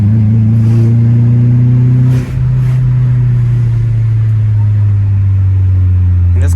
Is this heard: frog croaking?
no